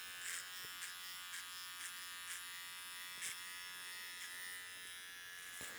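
An electric hair trimmer buzzes steadily as it cuts a fade over a comb guard. The high whine is close and continuous, with brief soft changes in tone as the blade passes through the hair.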